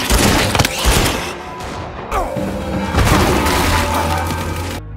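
Loud bursts of movie gunfire as a sniper shoots a giant monster caterpillar, with booming blasts and crashing impacts rolling into a dense, continuous barrage of action soundtrack.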